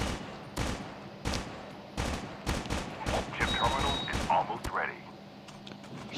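Gunfire in a Call of Duty match: bursts of sharp, loud shots in quick rhythmic volleys, with someone talking in between.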